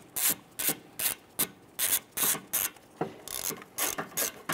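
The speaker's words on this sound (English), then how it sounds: "We're going to use our 10mm socket and extension with our ratchet. We're going to loosen and remove this bolt." A ratchet fitted with a 10mm socket and extension loosens a bolt near the power steering hose of a 2005-2010 Chrysler 300 during radiator replacement, giving loud, close bursts of rapid clicking repeated about a dozen times in a steady back-and-forth rhythm.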